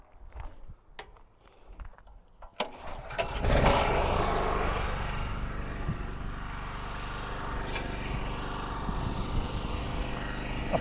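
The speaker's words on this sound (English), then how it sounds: "I'll just start this generator up now" A small portable generator is pulled into life with a few sharp knocks before it, then settles into a steady, loud mechanical drone that runs on unbroken, heard beside a boat being repaired.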